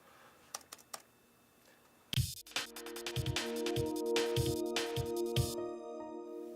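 Computer keyboard keys and mouse clicks in dental charting software, a few sparse clicks at first, then a denser run of clicking over a steady electronic tone, close and clear.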